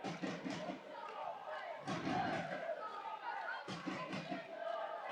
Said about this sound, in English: the Billingham fans are still cheering their team on